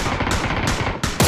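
Loud, rapid automatic gunfire from the video game PUBG rattles in continuous bursts with no pauses, close and dominant, with a brief dip just before a final burst.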